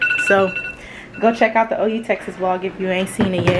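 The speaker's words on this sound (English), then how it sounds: "that's my alarm telling me that I need to post" A phone alarm rings with a short repeated tone near the start, then a person talks over it and the ringing fades under the speech.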